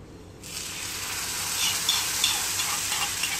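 Hot mustard seed tempering hits mango pulisheri, a Kerala yogurt curry, with a sudden sizzle that stays bright and steady for a few seconds, close by and free of talk.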